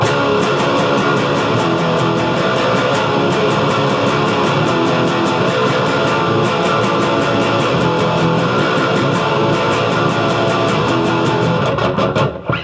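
Dense, distorted guitar chords with palm muting strummed in a steady, choppy rhythm, the verse part of a song, loud and continuous with no talking, ending abruptly.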